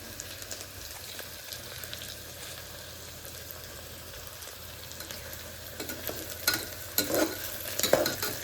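Green chillies frying in a pan for chicken pulao, a steady low sizzle with scraping stirs that grow louder and more frequent toward the end.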